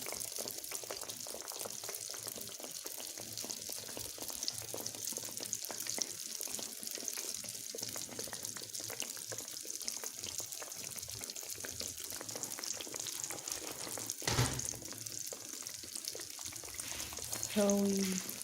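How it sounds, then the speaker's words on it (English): Pieces of mahamri dough deep-frying in hot oil, a steady even crackle held at the same level throughout, with a brief louder bump near the middle and light handling noise toward the end. "we fry them till they're golden brown"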